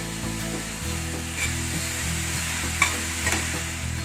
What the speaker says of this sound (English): तो तेल या घी गरम करके उसमें हमने फाइनली चॉप जो प्याज है, ऑनियन है, उसको डाला है।